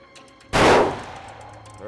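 A single sharp, loud rifle shot at a 400-yard target during precision hunting practice, with a booming report that decays over about a second amid quiet outdoor background.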